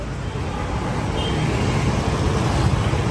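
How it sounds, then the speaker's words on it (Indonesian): Steady road traffic rumbles past a bus stop in coastal Kerala, India, with engines of cars and buses forming a dense, continuous roar and faint chatter in the background. "Jadi kali ini kita ada di halte bus ya"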